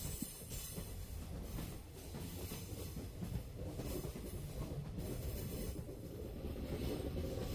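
A mountain railway train running from Thenmalai to Sengottai, heard from on board as a steady, loud rolling rumble with faint clickety-clack of wheels on track throughout, no voices.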